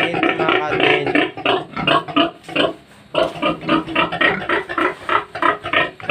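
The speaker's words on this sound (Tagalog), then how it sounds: "Dito may alaga silang mga baboy." Pigs on a farm grunt and oink in quick, rhythmic bursts, loud and close, with a short lull midway before the grunting resumes.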